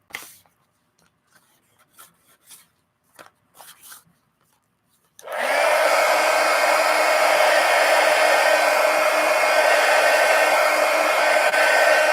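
A handheld hair dryer blows over ink washes on sketchbook pages. Quiet scratchy rubbing and shuffling comes first, then the dryer switches on and holds a loud, steady, close whoosh to the end.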